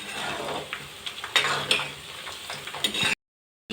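Banana stem snacks frying in a pan of oil, a steady soft sizzle with light stirring clicks and a few sharper crackles, ending abruptly in silence.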